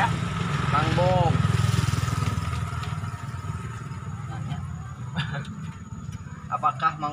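A lowered motorcycle's engine idles and revs with a steady low drone, close by, while people talk over it.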